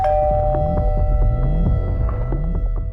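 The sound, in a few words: doorbell ringing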